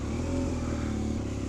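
Motorcycles on a 1000-mile, 24-hour ride pull away after a fuel stop, a steady close engine drone with some clatter running throughout, no voices over it.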